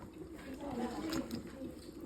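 Cornmeal and water are stirred together by hand for mush, a wet sloshing and scraping in a pot, moderately close, with a faint voice in the background.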